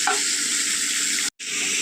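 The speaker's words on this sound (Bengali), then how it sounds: "এবার এটা খুব ভালো করে আমি কষিয়ে নেব" Spice masala with raw prawns sautéing in a pan, a loud continuous sizzle with stirring, briefly cut off near the end before resuming.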